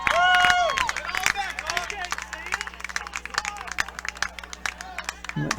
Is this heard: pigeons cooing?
no